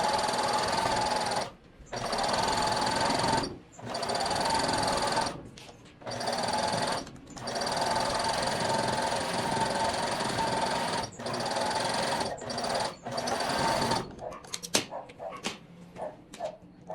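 Sewing machine stitching elastic onto stretched fabric for a clothing set, long loud runs of close whirring broken by several brief pauses, ending in handling clatter.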